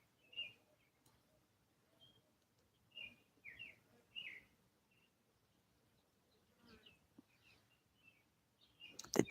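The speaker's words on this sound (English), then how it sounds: "I think those are sparrows." Sparrows chirping outdoors on a warm, sunny day, giving short, high chirps in a few scattered bursts. The calls are fairly faint and distant, with no talking.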